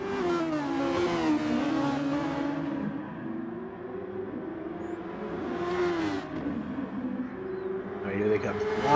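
Race cars roar down the straight in a sustained, loud engine drone that rises and falls, with a commentator talking excitedly over it throughout.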